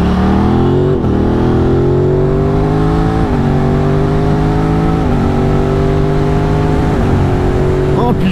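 A Renault Mégane RS engine drones loud and close, climbing in repeated pulls with brief dips at each gear change.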